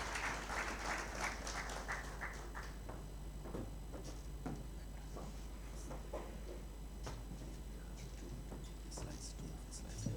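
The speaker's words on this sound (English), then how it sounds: "May we give a round of applause to Mr. Office as he comes to take up the podium" Polite applause from a seated audience at a winter school conference session, steady and moderately distant, with scattered individual claps standing out over a continuous low room hum.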